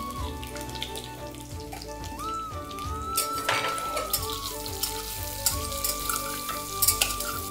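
Onion pieces fry in oil for biryani with a continuous sizzle and crackle, joined by stirring clatter and louder bursts in the second half, while a steady tonal hum runs through the background.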